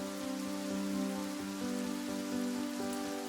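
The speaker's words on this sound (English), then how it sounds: "The rain had been falling steadily all evening, a heavy, rhythmic drumming against the cobblestones of the old city streets." Heavy rain falls on cobblestone streets of an old city, a steady dense hiss of drops, loud and continuous, with no voices.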